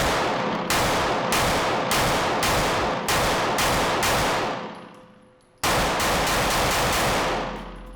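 Metal-frame pistol firing at an outdoor range, a string of loud, evenly spaced shots with a pause mid-string where the gun malfunctions, then a few more rapid shots.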